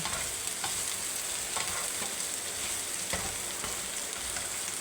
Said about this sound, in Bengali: এগুলো দিয়ে ভালো করে নেড়ে চেড়ে নেব